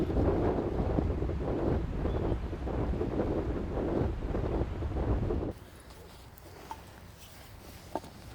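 Strong gusting wind buffets the microphone in a loud, rough roar, then cuts off abruptly, leaving a quiet outdoor background with a few faint clicks.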